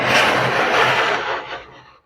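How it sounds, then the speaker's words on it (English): A metal scraper drags across a vintage wooden dining table, pulling off old layers of paint in a close, loud, continuous rasping scrape that fades out toward the end. "Excuse the scraping noise."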